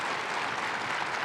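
An audience at a presidential forum claps in a brief, dense, even wash of applause. It is moderately loud and steady throughout, with no voices over it.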